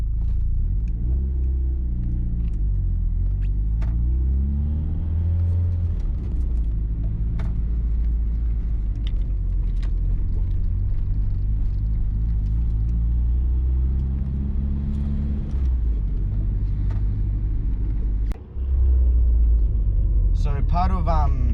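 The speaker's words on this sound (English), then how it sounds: "So now we'll just drive to Fabs and see a few of the boys there." Nissan 300ZX with freshly fitted piston rings cruising on the road, its engine giving a steady, loud low rumble throughout with slight rises in pitch as it accelerates, and a brief dip near the end.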